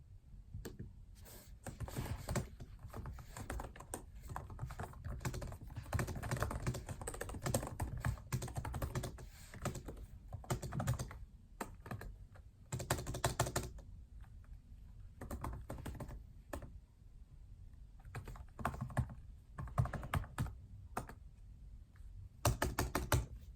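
Rapid typing on a thin Dell XPS 15 2-in-1 (9575) laptop keyboard, dense soft key clicks with brief pauses, close and fairly quiet with no voices.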